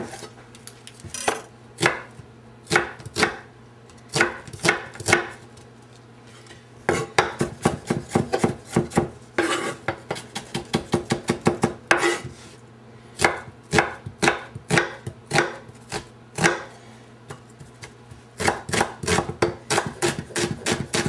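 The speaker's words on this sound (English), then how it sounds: "I'm going to start by chopping up in fairly small bits equal amounts of onion," Onion being chopped into small bits with a knife on a cutting board, for tuna croquettes, with quick bursts of sharp knife taps broken by short pauses, close and clear with no talking.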